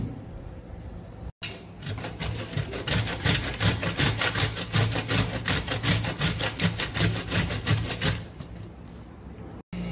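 Raw green mango is grated on the coarse side of a grater for chutney, making a fast, even series of loud rasping strokes for several seconds before it stops.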